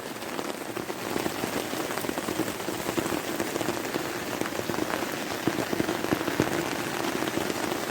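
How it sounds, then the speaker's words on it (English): Heavy rain pouring steadily onto a tarp at a wild campsite in Scotland, a dense continuous patter with sharp individual drop hits throughout, close and loud with no talk. "I don't know if you can hear that rain."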